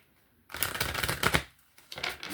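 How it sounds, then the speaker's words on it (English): Tarot cards riffled and shuffled in two close bursts, a longer crisp flutter followed by a shorter one after a brief pause. "One more shuffle for Aquarius"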